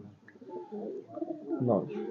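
Pigeons caught near the India border coo in low, rolling throaty calls up close, mixed with a nearby voice speaking.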